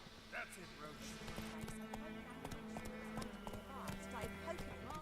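Hooves of the horse Roach clip-clopping in The Witcher 3, a quick, even rhythm of soft thuds beneath game music, with someone talking over it.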